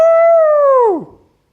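A voice imitates a dog howling: a single sustained, tonal "ow" that holds steady, then bends downward and fades out. It is close and loud, with no other sound around it.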